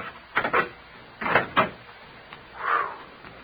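An old door creaks open in a radio drama, with a couple of soft knocks or thuds followed by a drawn-out, mid-pitched creak near the end, fairly close and fairly quiet.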